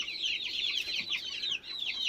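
A flock of chickens from a backyard flock of about 170 birds clucks and chatters in a steady, busy chorus of short repeated calls, close by and without talk.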